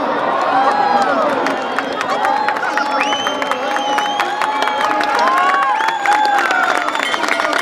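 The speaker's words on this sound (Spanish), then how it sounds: "la tribuna que aplaude a Nacho Otero." A rodeo grandstand crowd at the Criolla del Prado cheers and applauds, a dense, continuous roar of shouts, whoops and clapping throughout, with voices mixed in.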